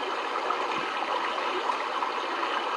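Running water from a stream flows in a steady, soft, even wash with no other sounds, heard at night outdoors.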